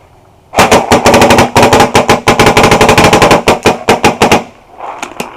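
A CCI Phantom paintball marker fires a long run of rapid, sharp shots at a tree on an outdoor field, loud and close, in several quick bursts with only brief gaps, then a couple of faint pops at the end.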